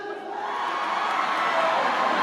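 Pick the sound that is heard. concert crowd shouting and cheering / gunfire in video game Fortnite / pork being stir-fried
concert crowd shouting and cheering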